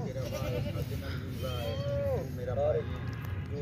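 Goats at a busy livestock market in Sahiwal give a few short bleats, one of them a pregnant milking goat close to kidding. The bleats come amid steady crowd noise, with people talking throughout.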